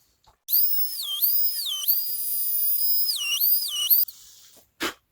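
A high-speed rotary tool bores rivet holes through fabric pannier bags for a Lectric XP e-bike, whining loudly and alone in a long sustained burst that dips in pitch several times under load, then a short sharp final burst.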